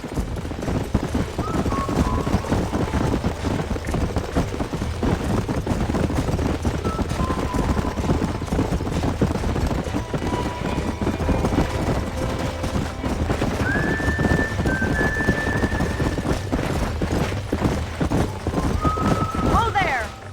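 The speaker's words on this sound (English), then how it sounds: "These are fine horses." Horses in the Red Dead Redemption video game gallop with steady, close clip-clop hoofbeats throughout, while occasional whinnies rise above them and characters talk over the scene.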